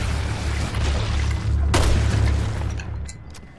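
A single sharp rifle gunshot in Resident Evil Revelations 2 cracks out over a dense, low rumbling background, followed by a fading tail.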